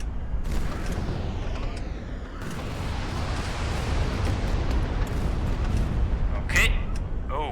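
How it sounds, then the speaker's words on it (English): Rocket launches and explosions from the naval battle game HighFleet form a dense, rumbling barrage with sharp bursts and whooshes throughout, while someone talks over the noise. "Let's just keep firing the rockets at him."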